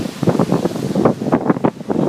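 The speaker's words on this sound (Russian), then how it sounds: "Какой свежий ветер, какие волны, море" Gusty sea wind roars across the microphone while waves wash and surge beneath it, a steady rushing bluster with no voices.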